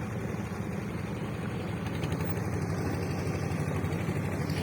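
A trawler boat's engine runs in a low, steady idling drone on monsoon floodwater around a village in Rajbari, Bangladesh. It sounds moderately close and continues without a break.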